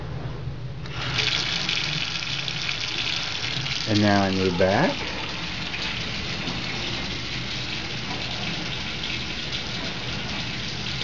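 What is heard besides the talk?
ordinary tap water running into sink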